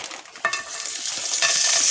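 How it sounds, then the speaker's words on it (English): Hash browns dropped into a hot frying pan, bursting into a loud, bright sizzle that swells and holds steady with crackling spatters and a scrape or two, close up with no talking. "I'm going to be doing hash browns in the pan. And so listen for this sizzle"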